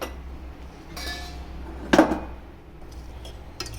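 A pressure cooker being opened in a home kitchen after cooking pulao, with a few sharp metallic clinks and clanks of the pot and lid, one louder clatter in the middle, over a low background hum.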